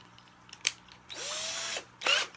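Power drill boring a hole for a DIY overhead camera stand, a few short bursts followed by a sustained loud whirring run and a final brief burst.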